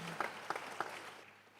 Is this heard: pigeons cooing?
no